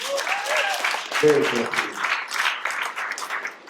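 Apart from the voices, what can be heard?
audience applause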